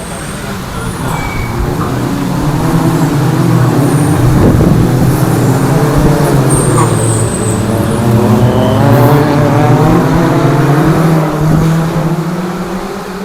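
MG Cup race cars roar past at Cadwell Park, a loud engine drone swelling and fading as the pack goes by, with a commentator talking over the noise.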